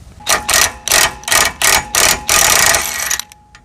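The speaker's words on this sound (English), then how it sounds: "Socket's on. Should just be able to back it off real quick." A ratchet socket wrench backing a bolt off a trailer coupler: a quick series of about seven loud, rhythmic ratcheting bursts close up, the last run longer and continuous, then a few faint ticks.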